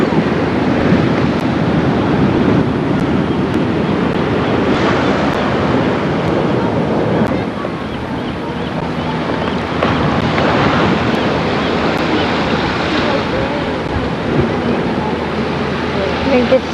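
Ocean waves surging and washing onto a California shore, a loud, steady roar of surf with heavy wind rumble buffeting the microphone throughout.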